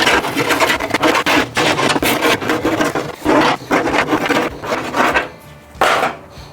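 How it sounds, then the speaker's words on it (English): A metal scraper works repeatedly across the heat shield of a Pit Boss pellet grill, giving loud, close, gritty rasping strokes in an uneven rhythm with short pauses between passes. "let's go ahead and keep scraping this heat shield here"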